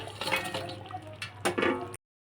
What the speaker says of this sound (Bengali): আমার মশলাটা কষানো হয়ে গেছে এখন আমি জল দিয়ে দেবো